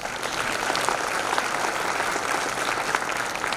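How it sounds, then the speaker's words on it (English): Convocation attendees give a big round of applause to their teachers, producing continuous, dense clapping from a large crowd at an even, strong level with no voices over it. "I would like to give a big round of applause to our gurus."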